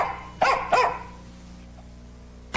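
Two sharp dog barks in quick succession, fairly close and clear, during a 1990s Nissan Chrysler Plymouth car dealership TV commercial, followed by quiet background hum.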